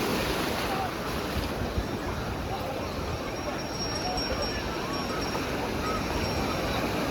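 Sea waves washing ashore at Appikonda beach, a steady broadband surf roar mixed with wind buffeting the microphone, continuous and fairly loud throughout.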